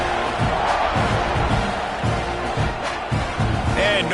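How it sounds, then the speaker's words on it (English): Steady roar of a packed football stadium crowd at an Alabama versus Texas game after a scoring drive. The broad, continuous crowd noise runs throughout under a commentator's voice. "this crowd is feeling themselves after that last drive"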